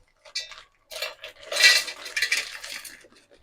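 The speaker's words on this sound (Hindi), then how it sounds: "इस मिक्सर जार के अंदर इस मिश्री को डाल देंगे।" Hard rock sugar crystals clatter and rattle into a mixer jar in a few uneven bursts, a close, bright tinkling pour with no talking.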